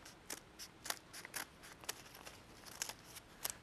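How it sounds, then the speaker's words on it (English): Scissors snip through folded paper in a series of quick, crisp cuts, roughly a dozen light clicks at an uneven pace, close up and clear against a quiet lecture-hall background. "take my scissors, it's not strict origami here, and I make one complete straight cut"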